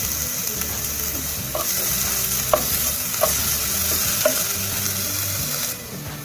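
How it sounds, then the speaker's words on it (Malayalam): Sliced onion with salt sautéing in a pan for a tomato curry: a steady close sizzle of frying, punctuated by several distinct spatula scrapes and stirs at intervals, with no talking. "നമുക്കിതിലേക്ക് സവാള ഇട്ട് കൊടുക്കാം. ഇതൊന്ന് ഉപ്പ് ചേർത്ത് അത്യാവശ്യം നന്നായിട്ടൊന്ന് വഴറ്റിയെടുക്കാം."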